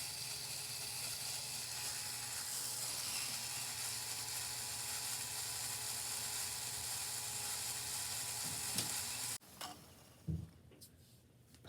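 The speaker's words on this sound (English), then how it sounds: "Pump number 1" A LEGO pump geared about 3-to-1 runs with a steady mechanical whir and rapid clicking for roughly nine seconds, then stops abruptly, followed by a few faint handling knocks.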